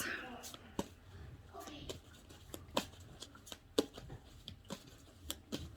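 Tarot cards shuffled by hand at close range: a run of crisp, irregular riffling snaps and taps, fairly quiet, over a soft background.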